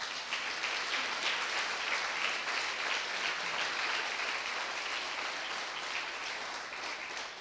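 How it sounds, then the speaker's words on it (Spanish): Applause from a church congregation, a dense, steady wash of many hands clapping together throughout, moderately distant and even in loudness, tapering slightly at the end. "demos un fuerte aplauso"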